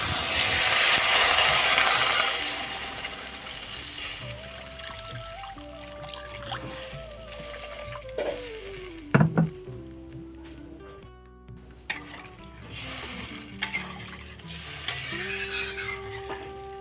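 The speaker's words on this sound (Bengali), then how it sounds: "এখন আমি জল দিয়ে দিচ্ছি।" Water poured into a pan of sizzling fried spices for a Bengali small-fish curry gives a loud burst of hissing that quickly fades to a softer bubbling simmer, with clinks and faint background tones.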